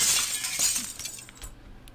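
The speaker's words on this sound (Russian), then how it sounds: "ты можешь разбить окно." Window glass breaking in the video game Urban Nightmare, a bright crashing shatter at the start followed by scattered tinkling shards fading over two seconds.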